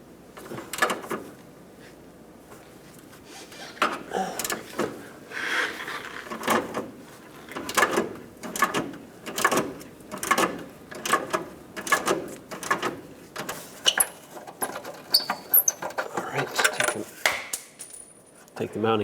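Metallic ratcheting and clicking while a 10mm mounting bolt is worked loose from the horn assembly of a 1997-2003 Ford F-150, close and busy, with repeated clinks and scrapes of tools against metal throughout.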